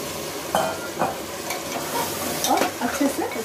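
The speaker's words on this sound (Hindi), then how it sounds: "और अच्छे से इसको अदरक लहसुन और प्याज के साथ मिला लेंगे।" Mutton frying in a pan with ginger, garlic and onion, a steady sizzle broken by several scraping stirs at irregular intervals, heard up close with no talking.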